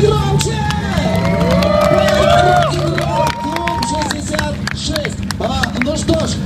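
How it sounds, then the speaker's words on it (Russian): A crowd at a biker club claps and cheers loudly and continuously, with whoops and babbling voices mixed throughout. "Аплодисменты громче!"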